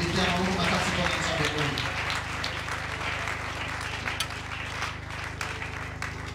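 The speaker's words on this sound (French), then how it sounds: "Est-ce qu'on peut applaudir ce Dieu?" A church congregation applauds in worship, a loud rush of clapping that thins after the first couple of seconds while a steady low hum and voices continue underneath.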